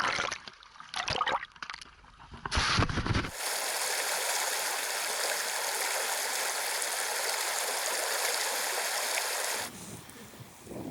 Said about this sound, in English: The creek takes a 90-degree turn right here.